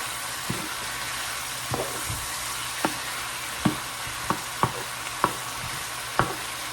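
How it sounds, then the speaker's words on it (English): Seasoned food with salt and pepper is stirred in a pan over a low, steady sizzle, with about nine distinct scrapes and knocks of the utensil spaced irregularly through the stretch. "Then you go ahead and start stirring it up."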